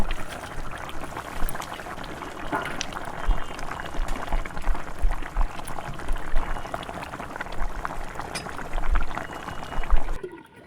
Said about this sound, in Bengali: এবারে ঢাকা দেব দিয়ে ফোটাতে থাকবো